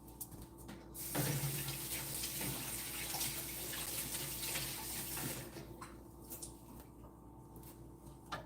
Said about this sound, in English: Let me rinse it up.